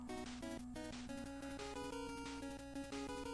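Fast, energetic Mega Man 2 NES chiptune music with bright square-wave melody and a steady driving bass line, playing continuously at a moderate, even level.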